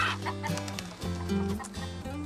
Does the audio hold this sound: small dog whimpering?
no